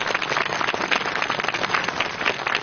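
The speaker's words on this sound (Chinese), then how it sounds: "掌声欢迎他们， 掌声有请。" An audience at a televised military-camp Spring Festival show claps to welcome guests on stage: dense, steady applause that stays loud for the whole stretch, with no speech.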